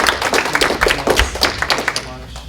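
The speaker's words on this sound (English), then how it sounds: "Let's give a round of applause" A round of applause from parents and students at a Korean-American scientists' association math competition in Michigan, close, uneven clapping that tapers off near the end as a voice begins.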